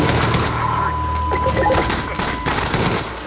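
Video game gunfire in Garry's Mod sandbox: loud, rapid automatic bursts crackle almost continuously, with brief gaps between volleys.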